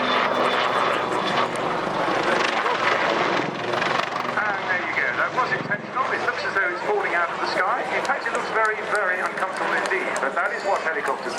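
A helicopter's rotor and engine roar continuously and loudly at an airshow, shifting in pitch as it performs aerobatics including a half Cuban, with a voice talking over it.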